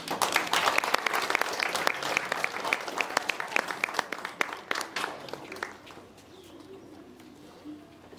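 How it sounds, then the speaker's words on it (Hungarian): An audience at a school graduation and year-end ceremony claps in a brisk, crisp burst that fades out after several seconds, with pigeons cooing nearby as the applause dies away. "De azért a tapsot ő is megérdemli."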